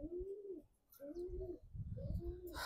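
Racing pigeons cooing around their coop in the morning: several soft, low, throaty coos in quick succession, rather faint and close, with no talk.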